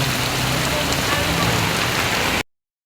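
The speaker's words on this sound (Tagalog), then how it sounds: "Walang hangin pero yung lakas ng ulan ang meron. Malakas ang ulan." Heavy typhoon rain pours down in a dense, steady hiss of drops hitting surfaces nearby, with no wind, then cuts off abruptly.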